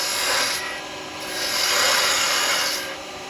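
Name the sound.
3/8 spindle gouge cutting wood on a lathe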